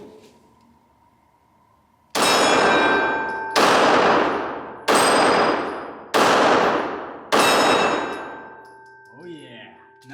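Five loud 9mm pistol shots from a Ruger American, spaced about a second apart, each followed by a long metallic ring from the struck steel target and a fading decay.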